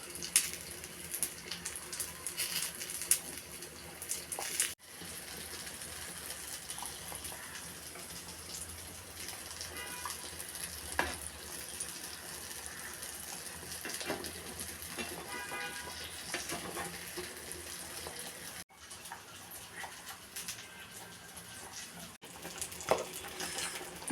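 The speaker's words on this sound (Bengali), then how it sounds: "পোড়া পোড়া করে টেলে নিব।" Tomatoes frying and charring in a hot pan for a Bengali tomato bharta, giving a steady, moderately quiet sizzle and hiss with a few brief breaks and no talking.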